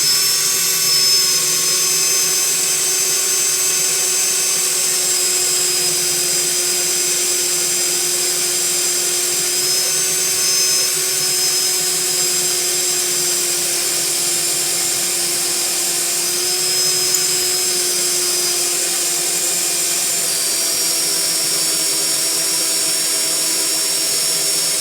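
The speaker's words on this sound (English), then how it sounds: "So let me drill." A drill bores pocket holes through a Vevor XRS040 pocket hole jig clamped to a workbench. It makes a steady, loud motor whine with an even hiss that runs unbroken for the whole stretch.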